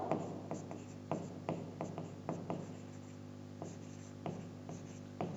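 Writing on a board during a biology lesson, a steady series of scratchy, rhythmic strokes close by and fairly quiet, with no talking.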